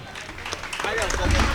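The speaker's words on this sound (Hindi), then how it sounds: "बजाओ जोरदार तालियां।" A crowd claps and applauds at a Jain monk's welcome ceremony and sermon in Kharadi, Pune, the broad clatter swelling louder toward the end while voices carry over it.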